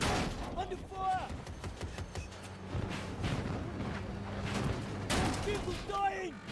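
Heavy gunfire crackles in a video game firefight, bursts of shots and booming impacts layered over a busy battle din, with voices calling out between the volleys.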